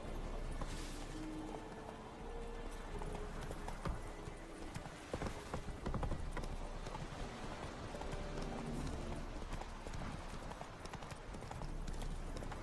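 Horse hooves clip-clopping steadily in The Witcher 3, a regular walking rhythm of hoofbeats that stays close and even throughout, over a game soundscape with a faint whinny.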